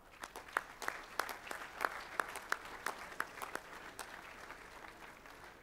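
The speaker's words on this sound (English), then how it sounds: "Applause." Applause at a school college assembly for a Year 5 and 6 team: a faint, sparse patter of claps from a distant audience, individual hand claps standing out at a steady rhythm before tapering off.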